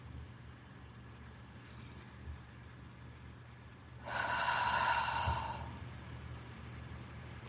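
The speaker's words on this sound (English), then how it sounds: "Breathing in through your nose and breathing out through your mouth." A slow, deep breath drawn in through the nose and let out through the mouth during a guided relaxation, with one soft, airy exhale swelling clearly midway over a quiet, steady background hum and no talking.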